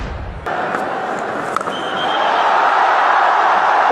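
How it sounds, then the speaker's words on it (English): Broad, steady roar of a cricket stadium crowd at the India vs New Zealand T20 World Cup final, cheering Indian batters; the noise swells and grows louder partway through, with a brief sharp knock early on. "The crowd are loving the power from these Indian batters."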